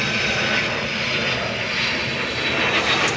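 An airplane passes overhead, its engine roar loud and steady across the whole stretch with no talking.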